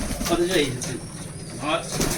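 Soft, low pigeon cooing comes in a few short phrases over steady background hiss, with a voice speaking faintly nearby.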